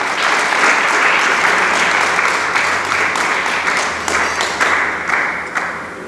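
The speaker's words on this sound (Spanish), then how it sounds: "Dele palmas al Señor." A church congregation claims steadily and loudly for the whole stretch at a sermon, a dense, sustained wash of many hands without pause, slowly tapering slightly near the end.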